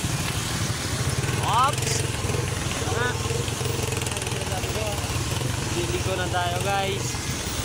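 A motorcycle engine runs steadily and close by throughout, with people talking over it at an outdoor Christmas gathering.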